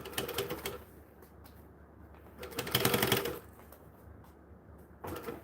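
A sewing machine runs in short bursts with an empty bobbin, giving rapid mechanical clatter in three separate spurts with quiet pauses between, close and fairly loud.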